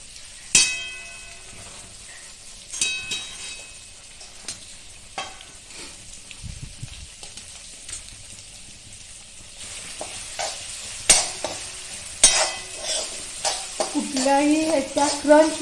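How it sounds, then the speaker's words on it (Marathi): Crushed ginger and garlic with three separated onions stir-fried in a pan: steady sizzling with sharp spatula clangs and scrapes against the metal, scattered at first and then busier, with some talk at the start. "भाज्या नुसते भरभर बरोबर स्टर करून घ्यायचं हलवून परतून घ्यायचं"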